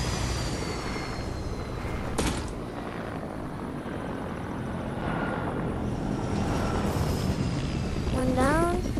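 An airplane engine in the video game Fortnite drones steadily for the whole stretch, a loud continuous rumbling whir beneath game effects and a voice talking.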